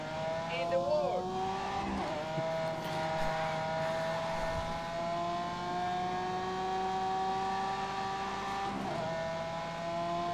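Racing car engine from The Grand Tour Game video game drones steadily at high revs with shifting tones and brief tyre squeal, running continuously under a voice.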